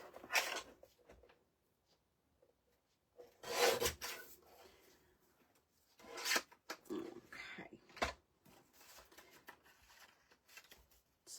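Wood being trimmed a little at a time so a piece fits snugly into a pocket. Several separate, quiet rasping strokes come in short bursts, with pauses between them.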